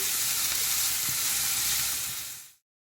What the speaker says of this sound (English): continue frying our marinated chicken